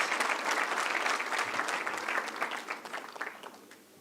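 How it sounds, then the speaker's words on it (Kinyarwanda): An audience at a graduation ceremony for the ASYV Umucyo class of 2022 claps in loud, dense applause that holds steady and then tapers off toward the end. "Mubakomera amashyi abo bantu bose mvuze"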